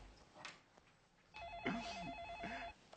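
A telephone rings with a warbling electronic tone in two bursts, muffled and moderately close, after a few faint background noises.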